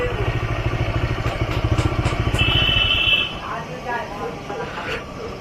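A motorcycle engine runs with a steady pulsing throb up close, then cuts back to a lower idle while background noise continues.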